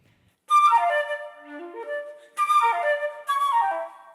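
A flute plays three short phrases from a Köhler romantic etude (No. 8, 'Zigzag'), with the low D played softly. The notes are clear and close, with brief silences between phrases and no talking.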